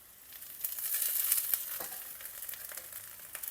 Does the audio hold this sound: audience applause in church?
no